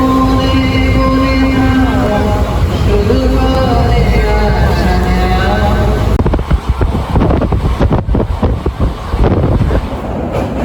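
A passenger train heading out of the station on a long journey toward Kolkata via Siliguri, with a steady rumble and rolling rail noise that roughens into clattering, wind-buffeted movement as it gets going.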